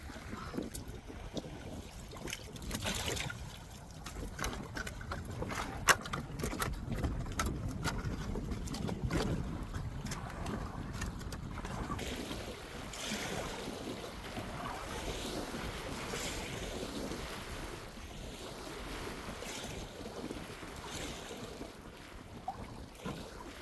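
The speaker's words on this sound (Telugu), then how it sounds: "చాలా భయంకరంగా ఉందండి గాలి." Strong storm wind blows hard across a pond, a continuous loud roaring rush with buffeting gusts against the microphone and a wash of choppy water beneath, lasting throughout.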